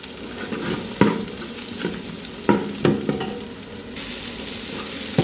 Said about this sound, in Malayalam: പൊടി പൊടിയായിട്ട് അരിഞ്ഞ് വെച്ചിരിക്കുന്ന വെളുത്തുള്ളി അതിനകത്തേക്ക് ഇട്ട് കൊടുക്കുക